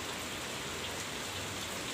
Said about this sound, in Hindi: अभी हो गई बारिश थोड़ी सी तेज़, और एकदम सीधी सीधी बारिश है